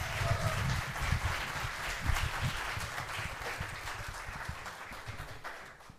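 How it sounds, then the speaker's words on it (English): An audience at a variety show claps steadily for about six seconds in a dense, even patter that fades slightly toward the end, with no voices over it. "Applause for Fred Hard"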